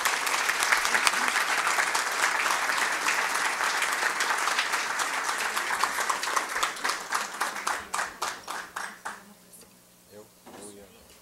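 A room full of people applauds at an extraordinary session of the Unicamp University Council. The applause is dense and steady at first, then thins into scattered separate claps that die away near the end.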